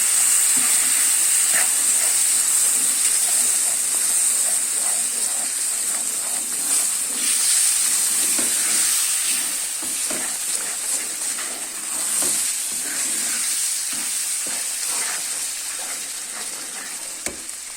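Milk poured into a pan of browned halva hisses and sizzles loudly, a steady bright steaming roar that slowly eases over time, with faint stirring scrapes beneath it.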